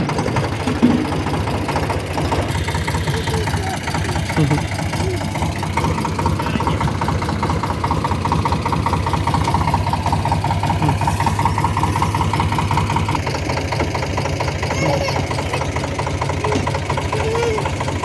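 A tractor's engine idles at a sand-loading site, a steady, loud, low rumble that continues without a break.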